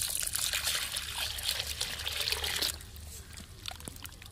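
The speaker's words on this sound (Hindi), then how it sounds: "कट गया है अब पानी हम डालते हैं" Water is poured onto snails in a bowl after they are rubbed with salt to clean off mud, making a steady splashing trickle that softens partway through.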